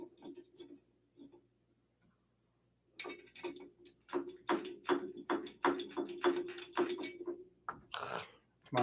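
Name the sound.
driving screws while assembling Prusa i3 MK3S+ 3D printer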